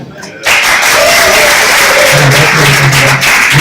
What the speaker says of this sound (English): Round of applause, we're having a good time.